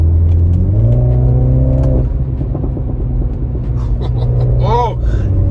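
A Mini Cooper JCW's engine revs up loudly and climbs in pitch, then holds a rumbling idle with faint crackles, while a person talks over it close by.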